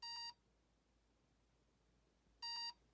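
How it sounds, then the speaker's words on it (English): Two short electronic beeps from a 1981 Mattel Teach & Learn Computer toy, reminding that a disc was left in, each a bright multi-tone chirp, sound about two and a half seconds apart, with near silence between them. "it'll start beeping at you annoyingly to remind you to reject it"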